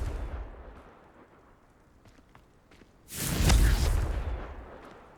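A Confringo fire-blast spell detonates in the Hogwarts Legacy game, a single loud, broad explosive burst after a quiet stretch of faint ambience, followed by a rumbling tail that lingers and slowly fades.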